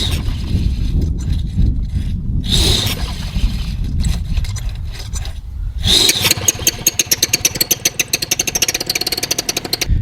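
A Vittorazi Moster 185 paramotor engine starts and runs nearby, loud and alone, a rough sputtering start giving way to a steady, rapid firing rhythm.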